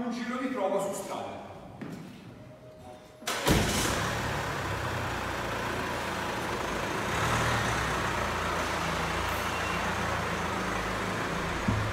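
A used Fiat 500X 4x4 with an automatic gearbox is heard on a road test drive, with a steady engine hum and road and tyre rumble after a door thud, while someone talks over the first seconds.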